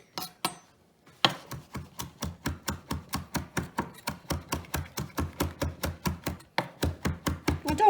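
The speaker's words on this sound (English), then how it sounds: "you're using the edge and the heel of your knife to chop" Quick rhythmic chopping with the edge and heel of a knife on a board while preparing an omelette, about two dozen even, crisp strokes in close succession after a few opening taps, near and clear.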